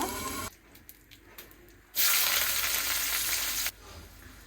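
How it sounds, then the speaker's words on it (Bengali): Chicken frying in a pan makes a quiet hiss, then a loud, bright sizzle swells for about two seconds before settling back to a softer crackle. "এখন আমি চিকেনটা ভাজবো সুন্দরভাবে"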